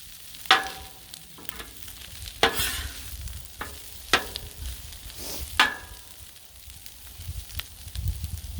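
Hamburger hash tossed and stirred with a spatula on a Blackstone griddle: sharp metal scrapes and clacks at irregular intervals over a steady, close sizzle of frying meat and potatoes.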